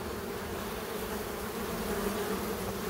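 A honey bee swarm buzzing around its hive, a steady dense hum of many wings holding an even drone throughout, fairly quiet and with no talking.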